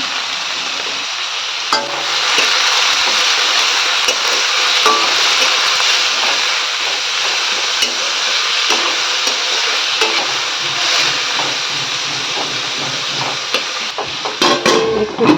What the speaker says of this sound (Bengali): এদিকে পেঁয়াজটা ভাজা হচ্ছে